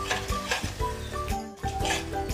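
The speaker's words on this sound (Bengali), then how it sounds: "দিয়ে এবারেও আমি বেশ ভালো করে নাড়িয়ে চাড়িয়ে মিশিয়ে নেব" Grated tomato and spices being stirred in a pan for a Bengali egg curry, a spoon scraping and clinking against the metal in quick repeated strokes over a soft sizzle, close and steady.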